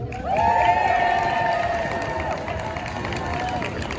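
A crowd at an Alberta rally for public education cheers loudly, with sustained whoops and shouts that hold steady before easing slightly.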